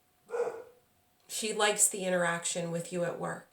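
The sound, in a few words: dog barking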